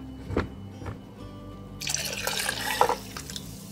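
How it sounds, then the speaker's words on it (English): Liquid pours steadily into a slow-cooker pot of ham, potato and corn chowder for about two seconds, splashing softly, after a couple of light clinks. "I'm gonna pour it back into my soup."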